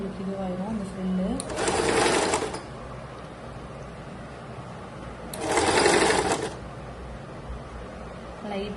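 A sewing machine stitches a gathered frill on a kurti in two short whirring runs, close and loud, with someone talking quietly in the stretches between.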